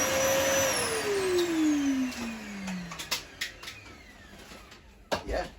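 A brand-new 2001 Numatic Nuvac NNV200 vacuum cleaner starts with a loud motor whine, then its pitch slides steadily down as it winds off, leaving handling clicks and knocks close by.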